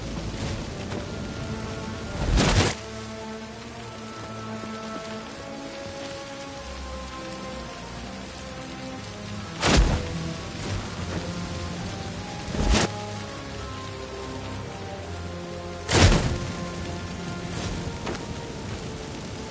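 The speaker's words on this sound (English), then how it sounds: "Looks like rain." Constant rainfall in a fantasy game scene, a dense even patter broken by four sharp, loud cracks spaced several seconds apart, no one speaking.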